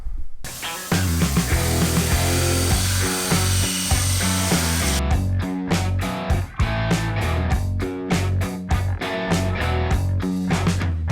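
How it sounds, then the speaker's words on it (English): Sheet metal being shaved down with a power tool during a 4-inch roof chop on a traditional Ford hot rod, starting as a continuous loud grinding whine, then changing into rapid repeated short bursts. "let me start shaving away until I can close that up here"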